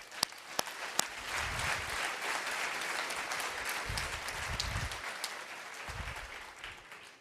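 Sustained audience applause at a corporate summit, steady and dense for about seven seconds with a few sharper individual claps near the start.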